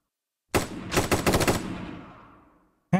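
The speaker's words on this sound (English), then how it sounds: "Ow, he just fucking shot me." A loud close burst of automatic gunfire in the tactical shooter game Ground Branch, a rapid string of shots trailing into a long echoing decay, then one more sharp shot at the end.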